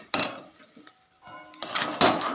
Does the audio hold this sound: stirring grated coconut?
yes